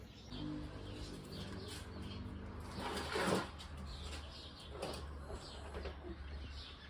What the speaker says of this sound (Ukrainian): хто там шуршить на даху? Шпаки.